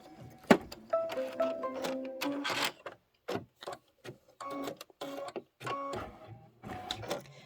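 An embroidery machine stitches a circle placement line in tan thread, with short whirring motor runs, tonal mechanical whines and clicks in stop-start bursts, close by and moderately loud.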